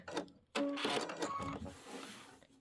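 A sewing machine stitching a Christmas quilt starts after a brief pause and runs in a steady mechanical whir with clicks, close by, then slows and fades near the end.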